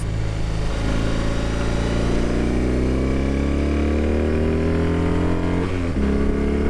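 A BMW R18 Transcontinental Option 719 touring motorcycle cruises on a freeway. Its engine drones loud and steady and rises in pitch as it accelerates and shifts, with wind rush throughout.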